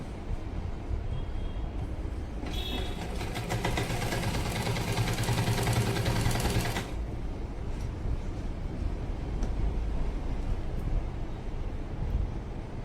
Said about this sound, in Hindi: वहीं से जैसे लाइन खींची वहीं पे हमें सिलाई लगा लेनी है।